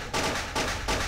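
Gunfire against zombies in the Boxhead flash video game comes as three separate bursts of rapid shots, each about a third of a second long, evenly spaced with short gaps between them and fairly quiet overall.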